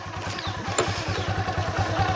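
Motorcycles arriving for a village religious gathering, a close engine idling with a fast, even low thumping pulse and mechanical clatter throughout.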